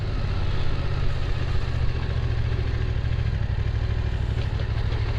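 A BMW F900 XR motorcycle idling nearby, a steady low engine rumble with a faint mechanical clatter, even and unbroken throughout, heard alone with no voices.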